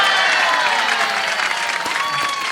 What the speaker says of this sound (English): Could we please give a huge cheer to our Golden Book winners?